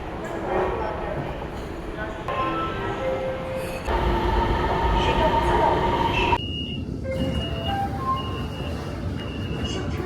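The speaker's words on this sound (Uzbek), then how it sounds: "Bu esa metro." A metro train in China runs along the track with a steady rolling rumble and a rising, whining electric motor tone, punctuated by brief squeals, with people talking nearby.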